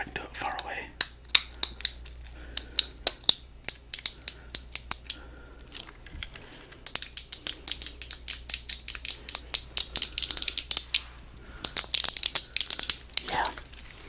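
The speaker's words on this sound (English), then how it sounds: "I also like fidgets. These are called clickers." Small keyboard-style fidget clicker toys snapping in quick, uneven bursts of crisp plastic clicks, close and fairly loud, with short pauses between runs.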